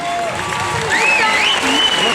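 Applause from an audience at a Brussels event honouring Jean-Claude Van Damme, greeting karatekas, a loud, dense wash of clapping mixed with crowd noise and a faint voice.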